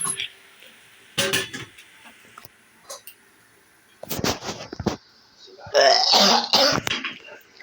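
Several rough coughs and throat-clearing bursts, close by, scattered across the clip with quiet gaps, a louder cluster near the end.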